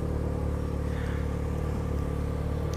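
Steady traffic on a busy city avenue gives a continuous low rumble of passing cars and engines, loud and close throughout, with no distinct single vehicle standing out and no speech.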